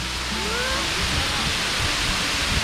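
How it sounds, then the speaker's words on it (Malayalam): Water tumbling down over rocks at the Arikkal waterfall, a steady broadband rush that fills the whole clip at close range, with a faint voice briefly audible beneath it. "പാറയുടെ മുകളിൽ നിന്ന് വെള്ളം ഒഴുകി ഒഴുകി വന്നാണ്ട്"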